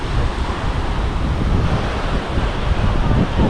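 Sea surf far below a coastal cliff at sunset, a steady broadband wash of breaking waves mixed with wind buffeting the microphone, loud and continuous without a break.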